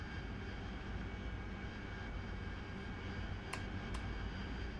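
An AV-8B jet engine in the DCS flight simulator roars steadily and evenly throughout a night flight, a constant broadband drone with two brief clicks near the end.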